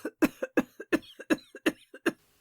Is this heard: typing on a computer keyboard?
no